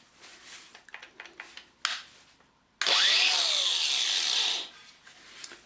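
A DeWalt DCG412 18V cordless angle grinder spins up with a sharp whine, holds a loud steady high-pitched run for about two seconds, then winds down, after some handling clicks and knocks.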